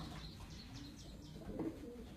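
Pigeons in an enclosed loft on a rural property give soft, low cooing under a faint, steady background hiss, with a slightly louder coo near the end.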